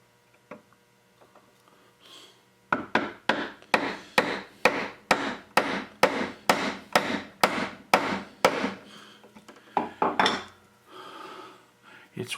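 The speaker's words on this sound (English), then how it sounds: "Japanese chisels that I save and use only for the finest jobs" A Japanese chisel cuts into wood on a chest repair, a rapid series of about a dozen sharp, evenly spaced strikes close by, then a few scattered taps as the work slows.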